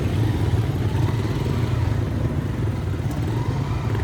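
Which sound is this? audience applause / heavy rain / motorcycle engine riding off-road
motorcycle engine riding off-road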